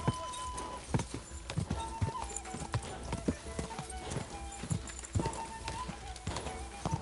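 Horse hooves clip-clopping in rapid galloping rhythm in the medieval video game Kingdom Come: Deliverance II, with occasional whinnies and someone talking over the hoofbeats.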